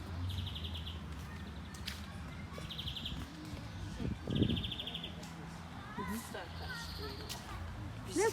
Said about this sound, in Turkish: Kuşların sesi.